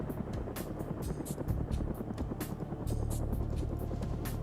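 Video game helicopter in a military raid operation, a steady whirring engine drone with rapid rotor chop, continuous and fairly close, with no talk over it.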